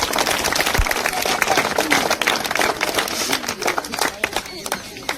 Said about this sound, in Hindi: इन बच्चों के माता पिता के लिए जोरदार तालियां बजा दीजिएगा